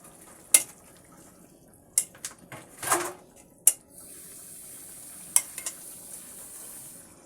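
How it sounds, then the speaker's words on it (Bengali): Prawns frying in spice masala in a pan, a soft steady sizzle broken by several sharp clinks and scrapes of a utensil stirring against the pan. "মাছটা মশলার সাথে ভালো করে কষানো হচ্ছে"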